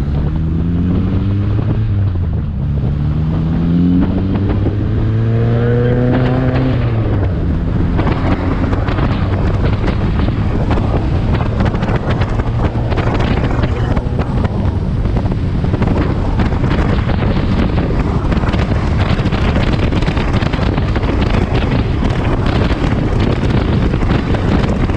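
A 1959 Austin Healey Sprite drives along Kentucky back roads, its engine revving up through rising gear pulls before settling into a steady drone, heavily buffeted by loud wind noise throughout with no talking.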